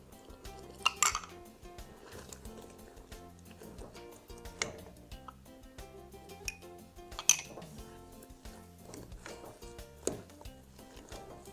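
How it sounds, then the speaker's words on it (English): A spoon stirs cornstarch mixture into apple pie filling in a pot, with scattered metallic clinks and scrapes against the pot at irregular intervals, fairly quiet and close. "stir it one more time, and then we're going to slowly pour it in and stir it around"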